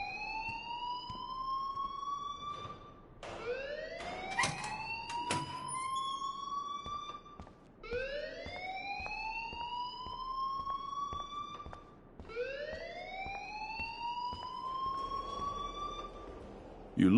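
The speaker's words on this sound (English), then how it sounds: "please turn off that alarm since that's your job" A fire alarm rings in the video game Life is Strange, a loud siren that sweeps upward in long repeating wails at a steady pace, with no one talking over it.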